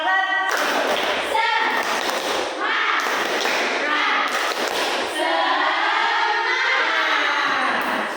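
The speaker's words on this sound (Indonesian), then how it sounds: "tepuk semangat" A seated student audience at a campus discussion performs a rhythmic spirit clap, patterned bursts of claps and thumps mixed with chanting voices, loud and close throughout.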